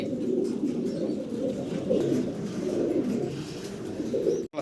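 Pigeons coo steadily in low, throaty rolls, close by and continuous throughout.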